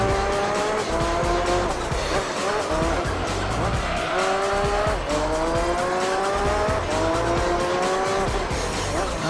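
Race car engine revving hard through repeated gear changes, with tires squealing under a loud, continuous roar from the Gran Turismo 3 video game.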